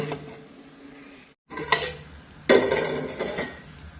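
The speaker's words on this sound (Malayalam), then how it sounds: "ഈ കപ്പ നന്നായി ഇളക്കി മിക്സ് ചെയ്യണം" Cooked tapioca (kappa) being stirred in a pot with a ladle, Pathanamthitta style, over low heat. Close clattering scrapes and knocks of the utensil against the pot come in uneven bursts, with a brief silent gap partway.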